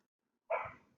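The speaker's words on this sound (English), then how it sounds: "my dog is barking" A single short dog bark at moderate distance, aimed at another dog outdoors, bursting out after a second of silence and then trailing off.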